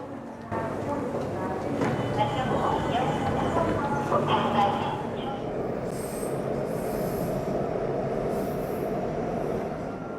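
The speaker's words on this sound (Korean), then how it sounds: "지금 지하철이 들어오고 있는데요." A subway train pulls into a station: a loud, continuous rumble of wheels on rails, with high squealing bursts as it slows, while a voice talks over it.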